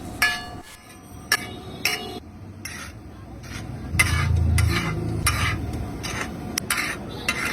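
A metal spatula stirs tawa pulao with peas and boiled potatoes on a street food griddle, making sharp, irregular scraping clacks over a low, rising sizzle of frying.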